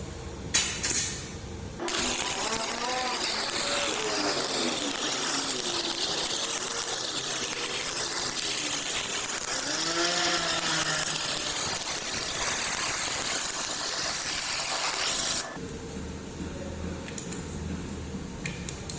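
SMAW stick welding with the electrode moved in a straight weave across the workpiece, giving a steady loud crackling hiss that runs unbroken for about thirteen seconds and then stops abruptly.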